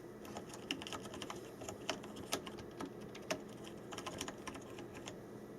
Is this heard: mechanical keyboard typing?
yes